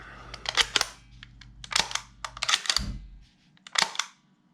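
A KWC Uzi airsoft gun is fired during a function test, giving several sharp, close, mechanical snaps at uneven intervals, each one loud and brief, with a few fainter clicks of handling between them.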